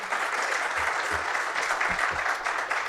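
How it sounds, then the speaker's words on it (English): An audience applauds the panelists at a startup pitch event, steady clapping filling the room at even volume for several seconds. "Another round of applause for all of our"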